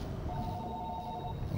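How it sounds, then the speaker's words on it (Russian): In the underwater video game Narcosis, a telephone gives a single electronic ring lasting about a second. It sounds faint over a low, steady rumble. "Телефон? Кто-то звонит? Где трубка?"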